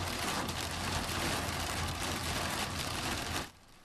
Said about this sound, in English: That's hail pelting the windshield on a drive this afternoon along 101 in Marin County.